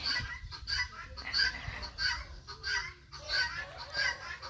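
Chickens kept at a house cluck and call in repeated short bursts, moderately close, over a low background rumble.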